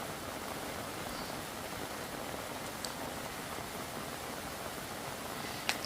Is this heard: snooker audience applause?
no